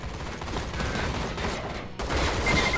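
Gunfire in a shooting video game, dense rapid automatic fire rattling continuously and loud, briefly dipping before resuming at full intensity.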